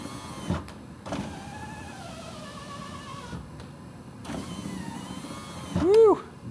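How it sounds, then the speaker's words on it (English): Electric power windows on a truck cycling up and then down, a series of quick whirring motor runs with rising and falling whines, close and fairly loud, ending in a sharper squealing burst. "Let me show you how fast these windows go up and down."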